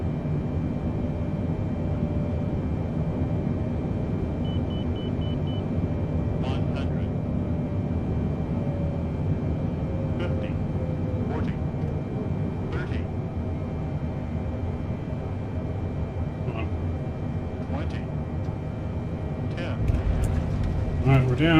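Simulated roar of a FedEx Boeing 777F's thrust reversers during landing rollout in Microsoft Flight Simulator, a steady broadband engine rush sustained throughout with a voice talking over it.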